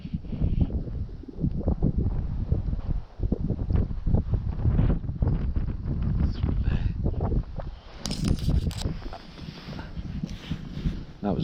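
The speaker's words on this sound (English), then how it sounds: "I got the wind quite strong on my back right hand shoulder." Strong wind buffets the microphone beside a stillwater trout lake in winter, a loud, continuous rumbling roar with gusty swells throughout and no speech.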